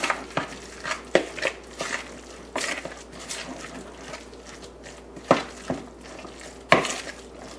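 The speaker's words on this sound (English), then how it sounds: "stir." A utensil stirs a tuna cake mixture with Dijon mustard in a bowl, giving a close run of scraping, clinking strokes with irregular sharper knocks against the dish.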